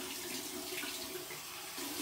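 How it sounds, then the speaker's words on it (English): Warm water runs from a sink faucet for a rinse after shaving, a steady close splashing stream that flows without pause. "so here we go with our warm water rinse."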